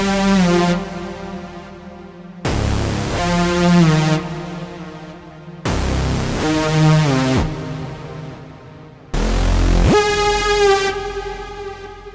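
Lead Giant synth preset in a melodic techno style, with sustained bass notes under a higher melody, in four loud phrases each starting with a sharp attack, and no talk.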